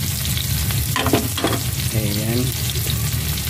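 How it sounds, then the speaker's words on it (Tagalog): Onions soften in a frying pan, a steady close sizzle broken by a few scraping stirs of the spatula, with a single brief spoken word. "Medyo malambot na yung sibuyas."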